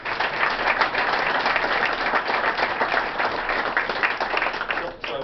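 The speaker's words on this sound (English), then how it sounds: "So again, another round of applause." A crowd at a veterans' support event breaks into full, sustained applause, a thick wash of clapping that stays loud and then dips near the end.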